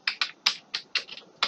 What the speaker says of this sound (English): So I am typing Mehul